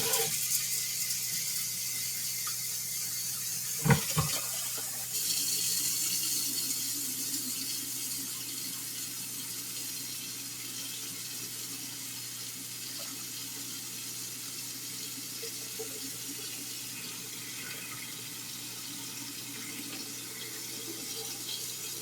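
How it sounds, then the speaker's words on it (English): Cold tap water runs steadily into a pot of rice in a kitchen sink during rinsing, a continuous splashing hiss with a brief clatter near the start and no one talking. "And we rinse our rice, cold water."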